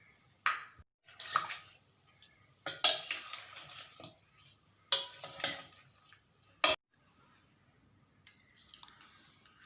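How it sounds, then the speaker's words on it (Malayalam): Chicken pieces mixed with turmeric powder and salt in a bowl, soft wet squelches and scrapes with occasional sharp clinks against the bowl, close and intermittent, without talk. "അതിലേക്ക് നമുക്ക് 1/2 ടീസ്പൂൺ മഞ്ഞൾപ്പൊടി, ആവശ്യത്തിന് ഉപ്പ് എന്നിവ ഇട്ട് നല്ലതുപോലെ ഒന്ന് മിക്സ് ചെയ്ത് വയ്ക്കണം"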